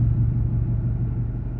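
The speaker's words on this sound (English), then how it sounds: "it opens up a exhaust cutout, so you should be able to hear it now. It's much deeper. And with it, just a quick rev, it is significantly louder" Saab 9-2X Aero with its exhaust cutout open, a deep, loud exhaust rumble held steady at close range with no voices.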